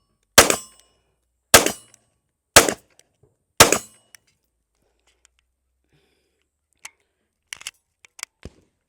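FN Reflex 9mm pistol firing four sharp, loud shots about one second apart, followed by faint clicks and light handling noises.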